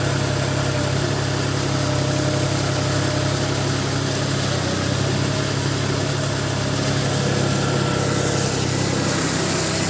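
A New Holland 4710 Excel 2021 tractor engine runs steadily at a constant loud drone with a vibrating hum, unbroken throughout and with no voices.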